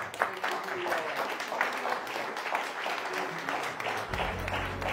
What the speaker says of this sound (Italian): Accogliamo con un applauso Giulio Caponi